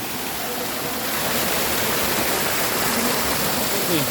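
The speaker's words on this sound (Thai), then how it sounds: "นู่นน้ำไหลลงมาจากด้านบนนะทุกท่าน" Water pours down continuously in a dense, steady rushing roar, like a waterfall heard from nearby, with no breaks.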